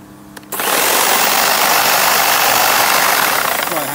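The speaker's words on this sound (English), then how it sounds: "There's my hedge trimmer, 325 watts." Electric 325-watt hedge trimmer switching on after a brief pause, then a steady, loud buzzing whir with a dense vibrating texture that holds constant close to the listener.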